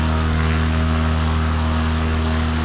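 A propeller airplane engine in a video game, a loud, steady droning hum with a strong low tonal buzz, holding constant and close throughout with no talk.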